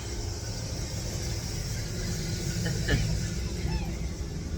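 A truck passing by outside in a residential neighborhood, a continuous low engine rumble that swells slightly toward the middle and stays under the ambient noise.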